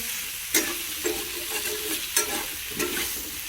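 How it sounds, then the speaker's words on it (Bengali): Green chillies fry in a hot pan under a low, steady sizzle, with a spoon scraping and stirring them in several distinct strokes. "আর এটা আমি এখন নাড়াচাড়া করতে থাকবো, নাড়তে নাড়তে এটা সেদ্ধ হয়ে যাবে।"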